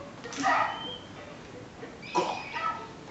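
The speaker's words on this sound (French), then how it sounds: "C'est bien, mon chien." Dog Snowy in the Tintin Secret of the Unicorn video game gives a couple of short yips and whimpers, moderately quiet, set against game background sound with no talking.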